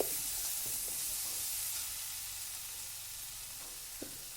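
Masala with tomatoes fries in a hot pan with a continuous soft sizzling hiss, punctuated by a few light taps of a stirring spoon near the start and end, fairly quiet with no talking.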